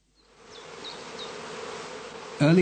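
Heather bees buzz at a skep apiary in northern Lower Saxony during the cast swarming period, a steady swarm hum rising in, with a single bee passing close and loud at the end.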